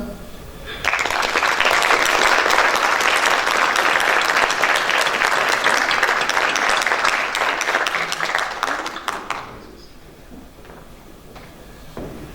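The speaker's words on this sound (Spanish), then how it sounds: "Papás, les pido que les demos un muy fuerte aplauso." Parents at a school parenting talk break into strong, sustained applause that starts abruptly, holds loud and dense for about eight seconds, then tapers off into a quieter room.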